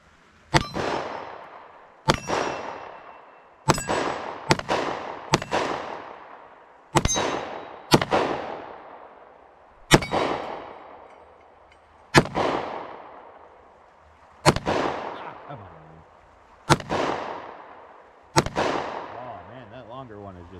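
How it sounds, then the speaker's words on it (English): A Taurus GX4 carry pistol fires a full magazine at a range, about twelve sharp, loud shots spaced one to two seconds apart, each with a short ringing decay, some pairs coming in quicker succession. "Let's fire off another mag full."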